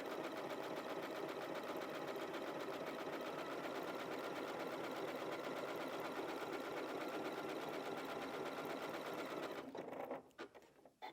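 A sewing machine stitches a one-step buttonhole, laying a satin stitch along the left side on a Spring Fever quilt block cushion. It makes a steady, close, continuous whir for about nine seconds, then stops with a few soft clicks.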